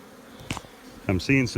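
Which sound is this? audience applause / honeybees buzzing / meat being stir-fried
honeybees buzzing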